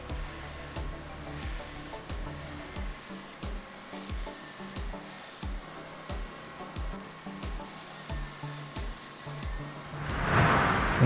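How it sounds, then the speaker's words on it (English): A belt sander grinds a wooden Bowie knife blade of purpleheart and black limba, tapering it thinner toward the tip, in a steady rhythmic series of short sanding passes with a louder burst at the end. "I'm using the belt sander to taper the blade so it's thinner towards the end."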